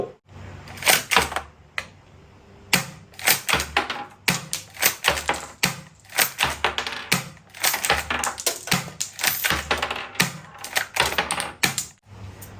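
A toy Zhuangsen M870 shotgun being pumped to eject shells, giving a series of sharp plastic clacks and snaps in quick bursts, close and loud, with no talking.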